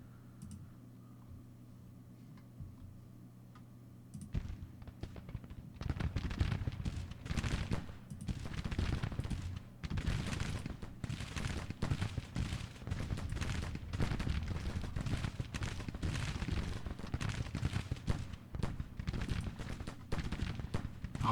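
Massed rifle fire from Union brigades in the Civil War strategy game Grand Tactician at the Battle of Bull Run, a dense continuous crackle of musketry that starts abruptly after a quiet opening and keeps rolling.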